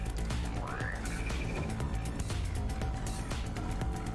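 A frog croaking in the game ATRIO, repeated croaks over a steady low background hum, moderately loud and up close, no talking.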